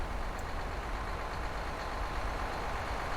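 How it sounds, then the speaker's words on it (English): A steady, low rumbling truck engine idling nearby in the X-Plane 11 flight simulator, beside a King Air 350 aircraft, continuous and even with no talking. "You can hear the truck."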